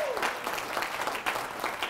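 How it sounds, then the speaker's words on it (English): An audience in a room at a talk applauds, a steady dense patter of clapping hands heard fairly faintly and continuing throughout. "We give Sam a round of applause."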